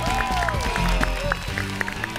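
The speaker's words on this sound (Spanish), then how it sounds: "Un fuerte aplauso para la teóloga, para Gloria." A TV game show studio audience, Pasapalabra, applauds as a contestant is introduced. Moderate clapping runs under studio music with sliding tones and beat-like thumps.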